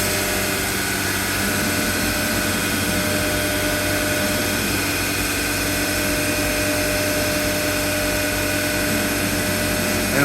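An Omnitech CNC machine, clean and well maintained, runs a ghost run, moving through its motions without cutting. A steady, loud mechanical whir and hum with fixed tonal lines holds evenly throughout, with no talk.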